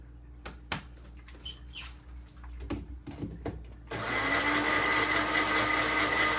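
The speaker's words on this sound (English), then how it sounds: "Mix it up in there in your blender." A loud, steady blender whir mixing a cocktail kicks in partway through after some clattering and handling noises, then runs continuously to the end.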